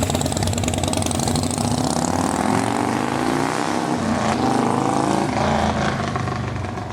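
An old display motorcycle engine idles steadily and loudly up close, a continuous even rumble that holds for several seconds with no talking over it.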